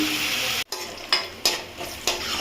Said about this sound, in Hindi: ये देखिए, थोड़ा सा प्याज हमने अलग से डाला फ्राई पैन में।